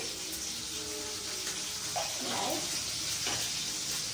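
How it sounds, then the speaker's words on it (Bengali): Black cumin seeds sizzle in hot oil as a tempering for a vegetable curry, a steady close frying crackle with a few stirring scrapes in the middle. "প্রথমে এখানে কিন্তু আমি কালো জিরা ফোড়ন দিয়ে দিয়েছি"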